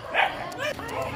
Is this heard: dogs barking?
yes